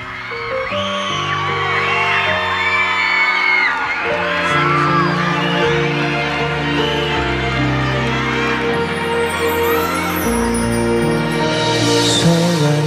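A loud audience at the Singapore Golden Melody Awards cheers and whoops for two singers, the excited crowd noise continuous and mixed with music throughout.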